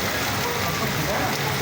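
Heavy monsoon rain pours down steadily in Khairpur, Pakistan, during a thunderstorm, a dense continuous hiss of downpour close by with no breaks across the short stretch.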